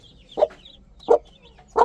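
A hen clucks three times in short, evenly spaced bursts at close range, with her young chicks nearby and no voices.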